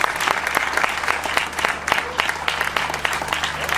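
Applause fills a conference hall at an Austrian e-mobility event, a dense steady wash of many hands clapping at close range with sharp individual claps standing out, continuing without break.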